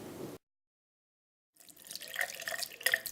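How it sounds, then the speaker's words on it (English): Warm tap water runs into a sink as a silicone pessary is rinsed under it, a steady splashing stream after a short pause, close and moderately loud. "Once removed, wash the pessary under warm water and put it aside until you are ready to replace it."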